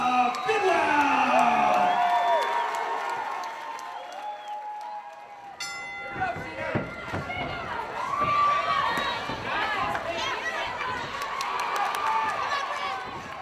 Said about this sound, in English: Let's hear it for Sheena Bidwell